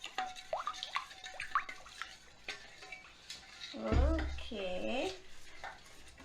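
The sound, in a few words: mixing chicken noodle casserole ingredients with spices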